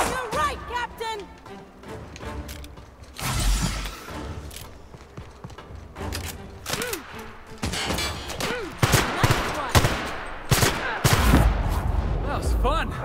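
Rapid bursts of assault rifle fire in a video game, sharp repeated cracks coming in clusters across the whole stretch with a steady background of game ambience and occasional voices underneath.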